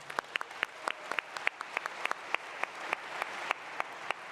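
Sparse, scattered clapping from a small audience at a live interview event, about a dozen sharp individual claps spread evenly over four seconds, fairly distant and thin rather than a full ovation.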